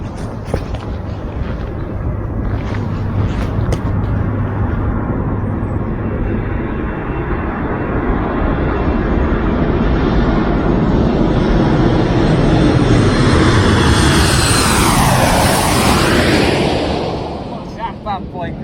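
A plane passes overhead at Gibraltar, its engine roar building to a loud sustained pass and fading, with excited voices faintly under it.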